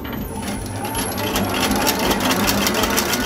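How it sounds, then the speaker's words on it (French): A Trittico Executive Evo stand mixer whipping Italian meringue, a steady loud whirring motor hum with a rhythmic whisk beat, continuous and close with no talk. "On va fixer ce mélange au batteur mélangeur."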